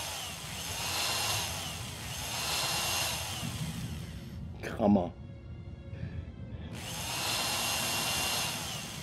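Power drill running in a VR video game, a steady buzzing whine lasting about four seconds, breaking off into a short quiet gap with a brief clunk before resuming. A single spoken word comes in the middle.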